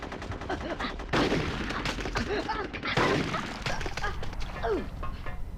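Sniper gunfire crackles in rapid bursts through a battle scene in Conker's Bad Fur Day, with shouting and game voices over the shots.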